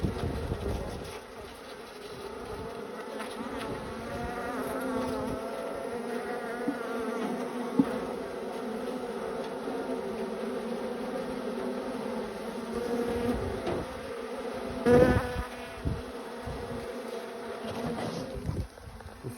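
Honeybees buzzing around an open hive during a frame inspection, a dense, continuous close drone of many insects with a few louder passes near the listener.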